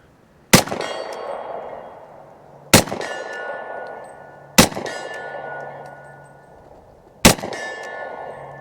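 Four sharp shots from a Ruger PC4 police carbine, each ringing off a steel target at 50 yards, spaced a couple of seconds apart, every crack followed by a long metallic ring that fades slowly.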